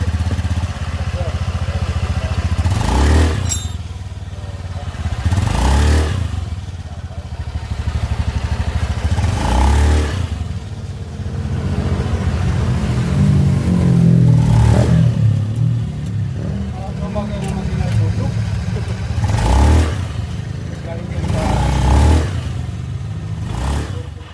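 Honda Beat scooter engine revving after a squeak repair, several repeated throttle blips rising and falling over a steady idle, close and fairly loud, with some faint talk underneath.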